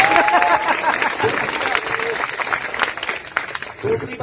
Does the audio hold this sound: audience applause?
yes